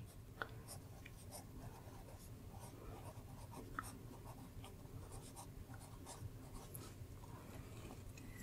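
A steel-nib fountain pen scratches lightly across paper in short, irregular strokes, with soft faint scritching, quiet and close, and no one speaking.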